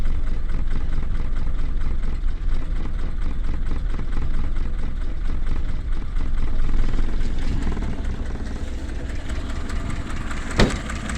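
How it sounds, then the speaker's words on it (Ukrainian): A car engine idles steadily up close with a fast, even ticking clatter from slightly noisy valves, ending with a brief sharp click. "Клапанці трошки шумлять, мотор шмальцеві."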